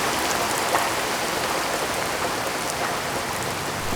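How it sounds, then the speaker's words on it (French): Heavy rain pouring down steadily as a radio drama sound effect, a dense, even roar of countless drops with no pauses, loud and close, with no voices. "La pluie qui avait abandonné mes pensées quelques instants s'est abattue sur moi, plus violemment encore qu'auparavant"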